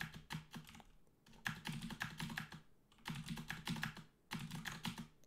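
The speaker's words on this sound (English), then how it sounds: "I accidentally fat-fingered the keyboard there." Rapid clattering keystrokes on a computer keyboard during a Dungeon Crawl Stone Soup game, coming in dense bursts separated by brief pauses, close and fairly quiet.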